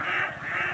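Ducks newly brought to a Filipino duck-raising farm give a brief burst of harsh, close quacking that lasts under a second.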